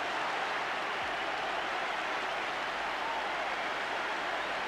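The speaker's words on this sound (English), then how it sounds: "The Highbury crowd salute a really fine goal." The Highbury crowd at Arsenal cheers a goal during a 1993 FA Cup match, a dense, distant roar of applause and cheering that holds steady throughout with no talk over it.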